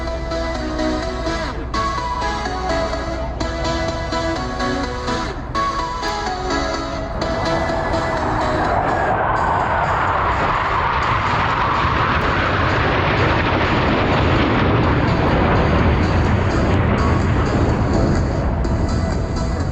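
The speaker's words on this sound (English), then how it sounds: "They'll climb up through vertical, under heavy G, as they perform the very difficult 5-plane line abreast loop." Navy Blue Angels jets roar overhead at the Dayton airshow as five planes fly a line-abreast loop, a loud continuous jet rumble that swells and turns into a broad rushing roar through the second half.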